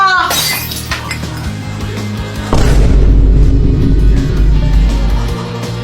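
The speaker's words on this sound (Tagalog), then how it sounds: "Hala ka, Kuya Jepoy, nabasag mo yung base ni Mama." A glass vase shatters with a bright crash at the start, followed by a heavy booming impact and a sustained loud rumble with scattered clinks, all mixed with busy sound effects.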